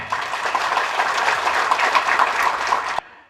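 An audience at a Hindu religious sermon claps together in a sustained, dense burst of applause that stops abruptly, leaving only faint room tone.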